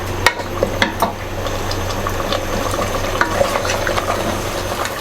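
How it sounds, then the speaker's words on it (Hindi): Mutton with yogurt fries in oil for a qorma while being stirred, giving a loud, steady sizzle broken by a few sharp scrapes and clanks of the spoon against the pot, close up and without voices. "अब हम इसकी अच्छी तरह भुनाई करेंगे"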